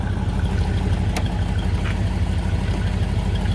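A restored 1956 Ford Thunderbird engine idles smoothly and quietly, a steady low throaty rumble with no lifter noise, continuous and close, without speech.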